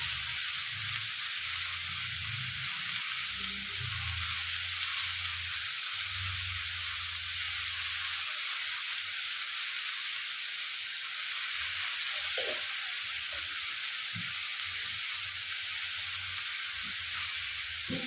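A potato and ridge gourd curry sizzles in a pan on a steady, even hiss, while a spoon scrapes and stirs in low irregular knocks, busier at the start and scattered later.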